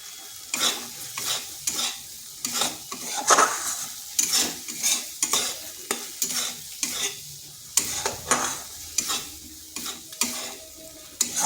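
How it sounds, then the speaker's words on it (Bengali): Masala stir-fried slowly on low heat in a kadai: a spatula scrapes and stirs in a steady repeating rhythm over a soft, constant sizzle, close and fairly loud. "আঁচটা স্লো রেখে বেশ কিছুক্ষণ এইভাবে সময় ধরে মশলাটা কষিয়ে নিতে হবে"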